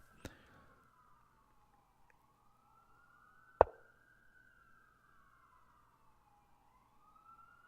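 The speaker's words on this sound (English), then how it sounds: "More sirens." Emergency siren wailing in the distance, a steady rising and falling tone that sweeps slowly across several seconds, with a couple of sharp clicks in the foreground.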